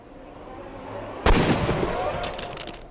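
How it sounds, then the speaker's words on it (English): A gunshot goes off in the detective game Crimes and Punishments, a single loud, sharp report that cuts through a quiet, tense background and leaves a rumbling tail fading over the next second. "Oh, good shot, Watson."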